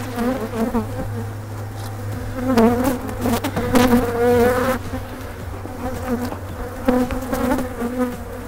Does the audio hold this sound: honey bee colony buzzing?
yes